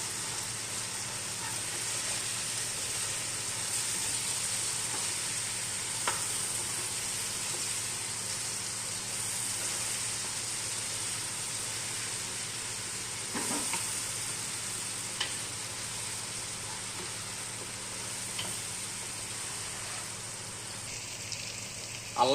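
Ginger garlic paste fries in a pan with a steady, bright sizzle, joined now and then by the soft scrape and clink of stirring, with no voices heard.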